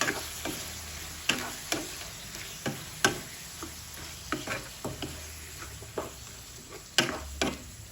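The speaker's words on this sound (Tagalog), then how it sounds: "And put magic sarap seasoning. And mix it." Pork is stirred with magic sarap seasoning in a sizzling pan, with a spatula knocking the pan in regular taps about every half second over a continuous frying hiss, and no speech.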